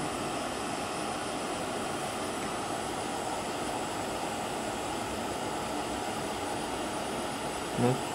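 A Shmel-2 primus stove burner with a new jet roars with a steady, rushing blowtorch-like hiss, continuous and close throughout, with a small knock near the end.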